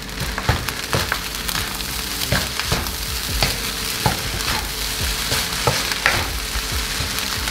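Nasi goreng padang sizzles steadily in a small wok while a spatula scrapes and stirs in repeated sharp strokes, close and loud, with no voices.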